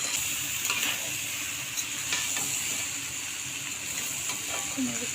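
Water goes into peas and fried potatoes cooking in a pan for Bengali ghugni, making a continuous close sizzle with steam hiss and scattered scraping clicks of stirring. No one speaks.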